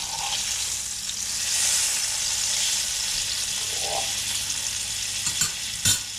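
Fish sizzles while frying in a pan at a night-time shore catch-and-cook, a steady loud hissing crackle with a few brief clinks and stirring sounds near the end.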